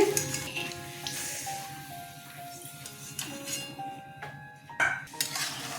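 Oil sizzling softly as vegetarian green jackfruit koftas fry over a medium gas flame, with occasional metal clinks and a few tonal background notes.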